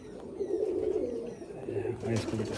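Pigeon cooing inside a loft, a breeder's male Abaluk pigeon among the birds, low murmuring coos running steadily throughout with someone talking over them.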